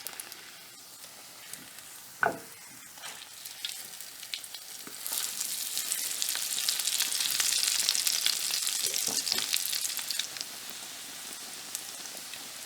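Stuffed bread pockets, a Kerala snack, fry in hot oil in a pan, giving a steady close sizzle that swells louder through the middle, with an early sharp clink and small pops scattered throughout and no talking.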